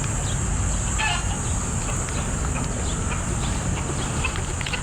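Asil black red chickens feeding give off scattered soft clucks and pecking sounds over a constant loud background hiss and rumble, with no clear talking.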